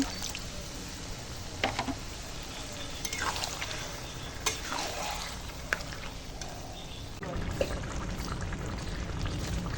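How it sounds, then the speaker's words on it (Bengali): Water is poured into a spiced jackfruit and prawn curry cooking in a clay pot over a wood-fired mud stove, a continuous splashing pour with scattered clinks, heard close and steady throughout. "এখন একটু জল দিয়ে গামাখা গামাখা করব"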